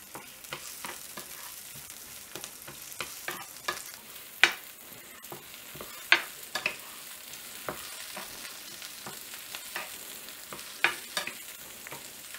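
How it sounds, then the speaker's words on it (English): Onions fry in a pan and are stirred now and then, a soft continuous sizzle broken by scraping, clattering strokes of the utensil, with a few sharper knocks against the pan. "Stir your onions well from time to time."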